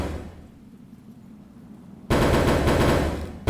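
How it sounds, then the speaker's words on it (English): A shutter sound effect in the game Lateshift at Nintendo World: after a quiet stretch it bursts in abruptly as a loud, dense rattling blast that holds for over a second. "Not to like blast your ears with that shutter sound, but literally I can do that"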